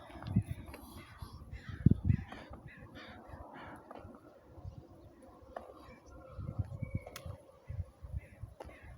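A large flock of crows flies overhead, cawing repeatedly in loud overlapping bursts that rise and fall against a busy outdoor background, with a few louder calls standing out close by.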